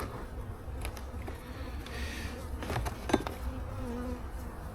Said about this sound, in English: decent amount of bees up here, I guess.